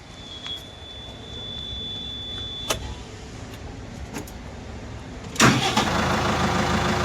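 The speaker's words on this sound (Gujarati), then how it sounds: "તો હવે હું તમને ટ્રેક્ટર ચાલુ કરીને બતાવવા જઈ રહ્યો છું." A New Holland Workmaster 105 tractor with a 105 HP engine gives a few faint clicks, then cranks and catches with a loud burst before settling into a steady running rumble.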